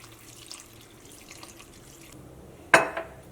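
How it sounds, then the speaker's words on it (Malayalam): Water splashes into a cooking pot for mango curry in a brief, sudden pour near the end, following a few seconds of quiet kitchen background noise. "വേവിക്കാൻ വേണ്ടിയിട്ട് വെള്ളം ഒഴിക്കുക"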